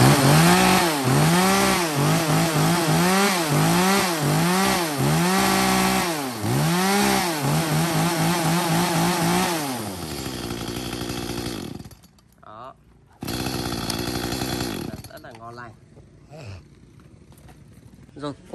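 Used Japanese-import chainsaw engine (Stihl, Husqvarna, Echo Kioritz, Makita models) revved loud and close in repeated rising and falling surges, then settling to a rough idle, cutting out briefly and starting again.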